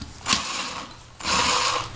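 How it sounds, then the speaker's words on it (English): Screws being backed out of a ceiling fan during installation over a tile floor: two bursts of whirring, ratcheting driver noise separated by a short quieter gap, close and moderately loud, with no talking. "so we're going to take these screws out like I talked about"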